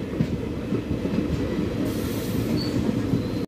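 Shri Ganganagar–Bathinda passenger train pulling into Mohanpura station, its first stop six kilometres out: a close, continuous rolling rumble with a brief high wheel squeal near the end, no voices.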